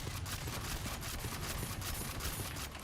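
Rapid turret gunfire in the factory-building video game Factorio, modded Factorississimo: a dense, steady burst of machine-gun shots rattling on without pause, loud and close, with no talk.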